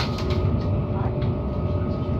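Steady low rumble and rattle of a moving train from inside a carriage on a long journey, constant and fairly loud with no voices.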